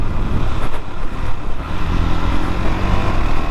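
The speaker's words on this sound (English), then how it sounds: "It gets bi-directional quick shifter, so you can upshift and you can downshift." A KTM Duke 390 BS6 motorcycle engine revs loudly up close while upshifting with a quick shifter, a throbbing, pulsing roar with brief dips between gears.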